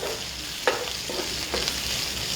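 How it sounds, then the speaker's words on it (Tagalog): Garlic and onion sautéing in a pan of hot oil for a chicken wings and bell pepper dish: a continuous loud close sizzle with a few soft stirring knocks, no talk. "Pwede nyo nang igisa, lagyan ng bawang sibuyas."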